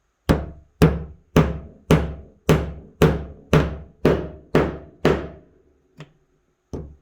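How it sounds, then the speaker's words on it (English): A hammer drives nails into a wooden fall centerpiece: about ten sharp, evenly spaced strikes, each ringing briefly and loud up close, followed by two softer, isolated taps after a short pause. "keep my hand away from where the hammer is going to be hitting"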